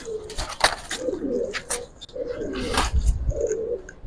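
Old-breed Giribaz and Pagla Khaki pigeons coo repeatedly inside a loft, close and fairly loud, with flapping and shuffling noises mixed among the calls.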